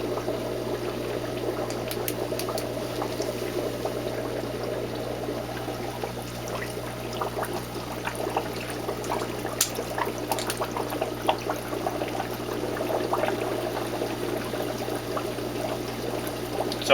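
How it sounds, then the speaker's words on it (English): A larger air pump drives a dense, steady stream of bubbles through the water of an algae scrubber, a continuous fizzing and gurgling over a constant low hum, with scattered brighter pops throughout. "how much bubbles there were with the smaller pump, this is what we have now"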